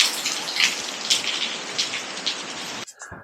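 Steady rain falls in a dense, hissing patter near a shed, loud and continuous before stopping abruptly into a few faint drips and knocks.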